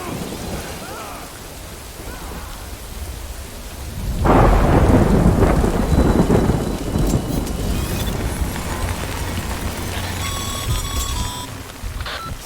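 Steady rainfall in the Death Stranding video game, broken by a loud, rumbling thunderclap that swells and slowly fades, followed by rain with faint electronic tones.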